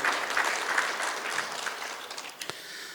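An audience at an Africa–Bangladesh trade show and business summit forum applauds the embassy, a dense, steady wash of clapping that holds for the full stretch and thins slightly toward the end, with a sharp single clap near the close.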